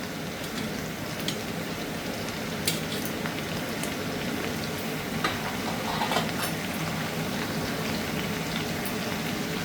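Ridge gourd pieces frying in a hot pan, a steady loud sizzle and bubbling hiss with occasional sharp pops and crackles throughout, no voices.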